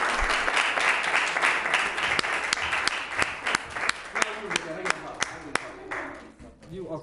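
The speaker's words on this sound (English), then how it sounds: "Clap, this is a good clap, right?" Audience applause at a village education advisory board meeting, a dense round of clapping that thins into sharp, separate claps and fades out, with voices speaking over it.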